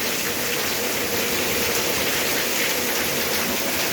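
Heavy rain pours down in Hosur, a dense, steady hiss that stays loud and unbroken throughout, with no voices.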